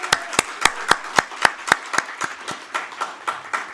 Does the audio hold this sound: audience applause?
yes